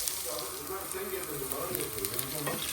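Rice sautés in a hot pan, giving a dense, steady sizzle with faint stirring clinks, and a few low voice fragments sound underneath.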